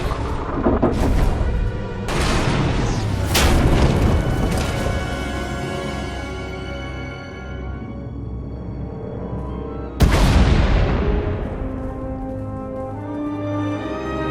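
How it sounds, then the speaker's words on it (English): Heavy booming explosions in a Star Wars: The Old Republic video game cutscene burst out one after another, then rumble and fade before another loud blast hits near the end. "We heard explosions. The tunnel collapsed."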